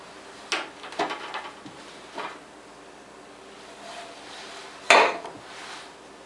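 Metal cake pans clatter and knock on a counter as a cake is flipped out, a few separate bumps ending in one louder clank, close by and with no talking.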